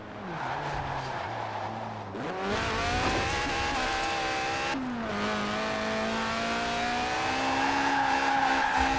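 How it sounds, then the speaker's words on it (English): Car drifting sideways in Forza Horizon 4, engine holding a steady high rev while tires squeal continuously, with a gear shift and renewed revving partway through; loud and sustained, no talk. "The honourable art of drifting."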